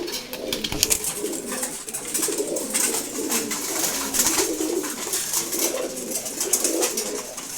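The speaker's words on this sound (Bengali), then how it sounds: "আর এদিকে হচ্ছে সব নর কবুতর" Male domestic pigeons in a loft coo steadily in soft, overlapping rolling calls, with a continuous chorus of birds close by and no talking.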